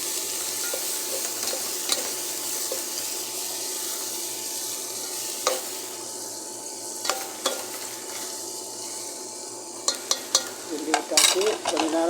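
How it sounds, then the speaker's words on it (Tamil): Chicken curry with onions being stirred in a frying pan: a steady, close sizzle runs throughout, broken by scattered scrapes and clinks of the spoon against the pan, busier near the end. "கொஞ்சம் கிண்டி விட்டுக்கலாம்."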